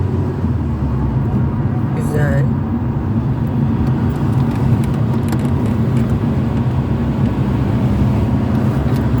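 A car engine drones steadily in third gear through a driving lesson on a training track, with road noise throughout and a voice talking over it.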